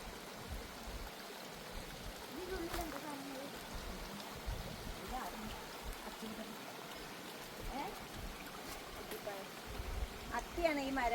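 A forest stream in Attappadi flows steadily, a soft, continuous wash of running water that stays fairly quiet and even throughout, with faint trickling detail on top.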